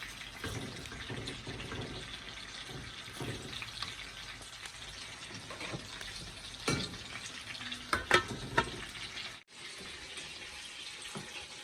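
Foraged seasonal vegetables are stir-fried with oyster sauce. A continuous low sizzle runs throughout, with a few sharp utensil scrapes and clatters near the end and no voices.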